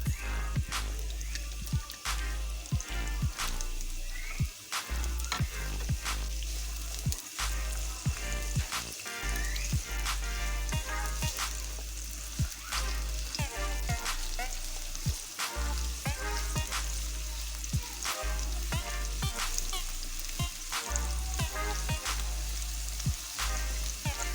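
Onions fry in oil in a pan with a loud, continuous sizzle, punctuated throughout by sharp scrapes and taps as a spoon stirs them, close up with no talking.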